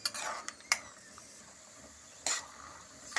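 Peanuts fry in hot oil for a pulihora tempering, with a faint sizzle beneath sharp metallic scrapes and clinks of a spoon stirring the pan at irregular moments.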